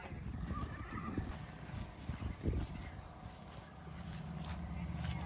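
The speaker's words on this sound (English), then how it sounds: "You don't know that horse, Mary, I promise." A horse at a riding stable, with a soft, somewhat distant whinny and a few muffled hoof thuds over faint background noise.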